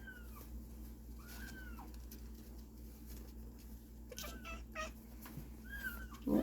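A kitten crying with a few thin, plaintive meows spaced across the moment, faint against a quiet indoor hum, with no talking.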